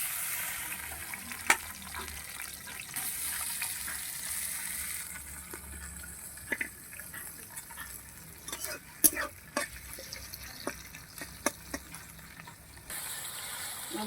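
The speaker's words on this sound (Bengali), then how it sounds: "এবার আমি চিংড়ি মাছগুলো ভেজে নিচ্ছি।" Prawns fry in hot oil with a steady sizzle, broken by sharp clicks and scrapes of a utensil stirring the pan, loud and close.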